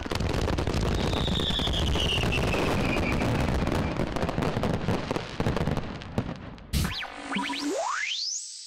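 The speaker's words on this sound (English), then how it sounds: "Fireworks are this perfect combination of chemistry, light, and sound." Dense crackling bursts of fireworks rattle continuously, then a few whistling rockets rise and pop at the end.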